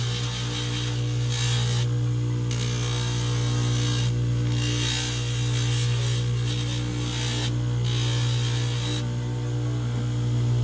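A rotary grinding tool works an acrylic denture tooth for a homemade partial, giving a steady, close whine with a low motor hum underneath and brief dips and surges in the grinding noise as pressure on the tooth changes.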